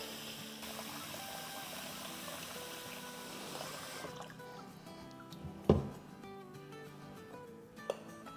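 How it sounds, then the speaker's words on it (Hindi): Clean water pours into a pot of lentils and wheat, a steady close stream for about four seconds, followed by quieter handling with a sharp knock or two. "अब इसमें साफ पानी डाल देंगे।"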